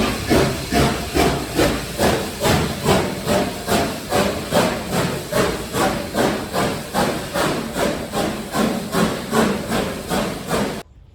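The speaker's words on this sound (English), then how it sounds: "the loco is now departing" Steam locomotive BB18 pulling away on departure, loud steady chuffing exhaust beats repeating rhythmically about twice a second, with continuous hiss of escaping steam throughout and no voices.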